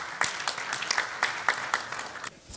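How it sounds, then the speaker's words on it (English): A small audience at a dental implant lecture applauds a speaker's introduction, with moderate, fairly sparse clapping in uneven bursts that fades out near the end. "Please welcome Dr. Jason Kim with a big round of applause"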